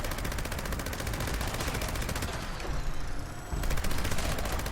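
A Gauss minigun fires in Fallout 76 as a dense, unbroken stream of rapid shots, loud and close throughout, with a brief thinning midway before the full barrage picks up again; no one speaks over it.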